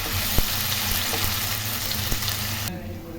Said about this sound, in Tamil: அந்த மிளகாய் இஞ்சி பூண்டு எல்லாம் நம்ம தனியாக அரைச்சி வச்சுருந்தாலும் அதுதான் கொஞ்சம் நல்லா வதக்கிக்கணும்